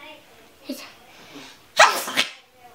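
A single loud sneeze bursts out after a brief soft vocal sound, close to the listener.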